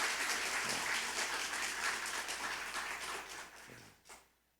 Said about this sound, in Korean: 우리 박수로 한번 감사를 표합시다